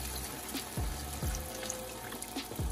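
Water running and splashing into a pot in a home kitchen while brown stew fish is being cooked, a steady pour with a few soft low thuds, no voices.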